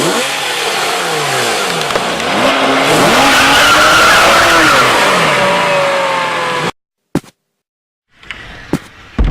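A red toy Porsche skids with a long tire squeal and a revving engine, loud and close for several seconds, then cuts off into near silence broken by a few sharp clicks.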